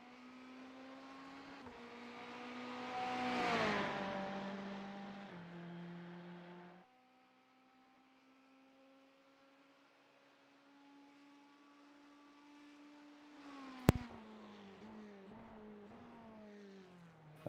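A Ferrari race car on track at Road America during qualifying, its engine note rising and falling through gear changes as it swells close by, fades to a distant hum, then returns with a sharp crack.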